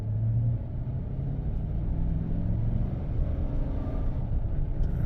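A 2015 Chevrolet Silverado pickup truck with a limp-mode fault accelerates from a stop, heard from inside the cab as a steady, loud low engine rumble whose pitch holds and rises slightly through a gear shift.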